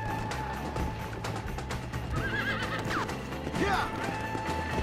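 A horse neighs repeatedly amid the thud and clatter of hooves in the video game Red Dead Redemption, loud and close, with busy background commotion.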